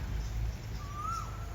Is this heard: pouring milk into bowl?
no